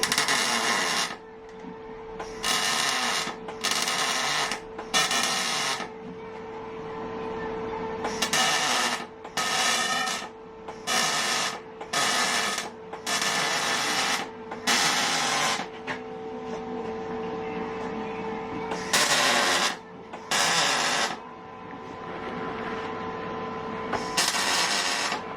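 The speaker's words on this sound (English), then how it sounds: "Sorry, I'm welding." Intermittent bursts of MIG-style welding on a motorcycle during an R1 engine swap into an MT10 SP in a shed, with a steady hum underneath, each crackling burst lasting a second or two with short pauses between.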